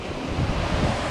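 Small ocean surf washes around a Hobie Mirage Lynx kayak, a dense, steady rush of water mixed with wind buffeting the microphone, with no voices heard.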